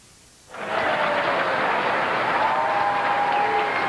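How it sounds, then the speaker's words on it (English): A crowd at a bowling tournament, the Greater Grand Rapids Open, bursts into loud sustained applause and cheering that starts abruptly and holds steady, dense and close, with no speech over it. "They're cheering for you, Walter Ray, and rightfully so."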